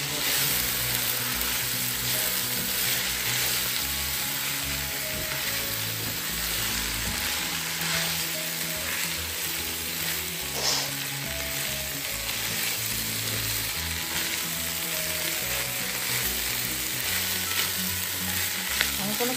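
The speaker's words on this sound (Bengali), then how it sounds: "এবার আমি চাল ডালটা দিয়ে দিচ্ছি, দিয়ে এইটাকে এবার একটু ভালো করে কষিয়ে নেব।" Rice and lentils frying in oil with ginger, cumin and green chilli for khichuri, a steady loud sizzle running throughout with scraping stirring sounds, close up and without talk.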